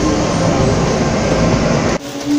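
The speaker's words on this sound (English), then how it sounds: "Train's coming." An arriving train roars loudly past with a dense rumbling rush, then the noise drops abruptly to a quieter hum.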